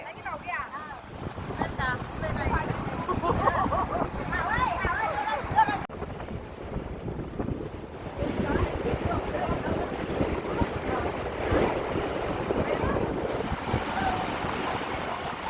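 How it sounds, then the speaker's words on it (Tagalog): Strong wind buffets the microphone in a constant roar, with surf or water rushing beneath and voices talking through it. "Lakas ng hangin, sobra."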